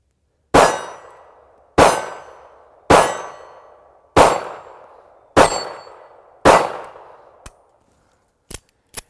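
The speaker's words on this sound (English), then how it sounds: "So let's just keep shooting." Six sharp, loud shots from a Ruger LCP II compact pistol crack at roughly one-second intervals, each with a short ringing decay, followed by a few faint clicks and taps.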